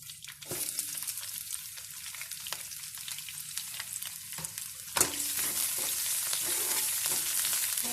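Chopped onions with ginger and green chillies sizzle in hot oil in a pan, with a steady crackling fry broken by repeated scraping stirs of a spoon against the metal. Close and fairly loud, no talking.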